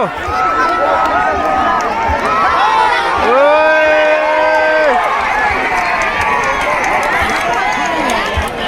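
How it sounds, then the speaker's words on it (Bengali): A crowd at a village horse race during a Baishakh fair roars and cheers continuously as many horses gallop past, with pounding, running movement beneath the din and a brief sustained horn-like tone cutting through midway. "দেখো কত ঘোড়া একসাথে আসছে"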